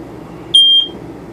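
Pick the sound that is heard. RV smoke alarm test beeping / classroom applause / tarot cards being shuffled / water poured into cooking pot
RV smoke alarm test beeping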